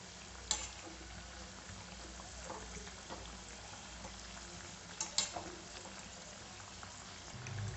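Vada frying in hot oil gives a steady, quiet sizzle and bubbling, broken by a few sharper pops and clinks as the pieces are turned.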